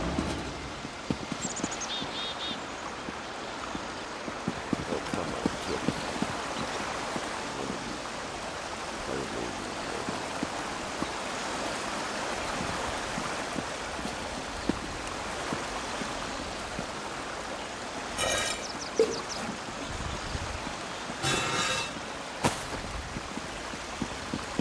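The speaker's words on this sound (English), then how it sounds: "here right now by the waterfall" Waterfall in The Elder Scrolls Online, a continuous broadband rushing and splashing of water that stays steady and fairly close throughout, with a few faint sharp clicks and chimes layered over it.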